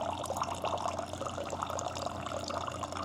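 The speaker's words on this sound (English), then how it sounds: "right there, it just poured 100 milliliters in here." Water pours steadily from a Hydrofast reverse osmosis water filter into a container, a continuous close splashing trickle that holds an even level throughout with no talking.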